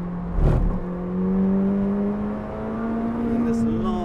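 From inside a McLaren 600LT accelerating out of a long right-hander on a track, a smooth harmonic engine whine climbs steadily in pitch after a short knock. A voice is heard briefly.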